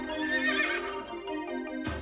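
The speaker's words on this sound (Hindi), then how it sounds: "पिताजी का घोड़ा।" A cartoon horse belonging to the father gives a loud, close whinny that rises and wavers, then breaks off abruptly.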